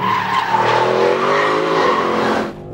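A 500-horsepower all-wheel-drive car drives over the Corkscrew, its tires squealing and skidding loudly under a strained, tonal engine note that holds steady for over two seconds before cutting off.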